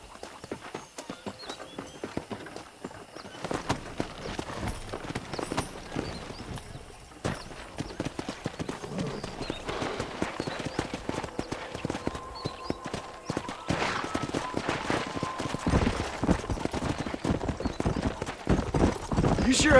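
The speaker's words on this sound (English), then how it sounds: "Let's see if we can't wrangle some horses." Horse hooves clip-clopping steadily on open ground in the Western video game Red Dead Redemption, a continuous close patter of hoofbeats running throughout with occasional louder thuds.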